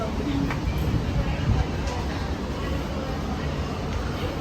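A Lagos Blue Line metro train rumbles steadily from inside a carriage, a continuous low roar with faint rattles that stays even and close throughout, while a passenger's voice is heard briefly over it.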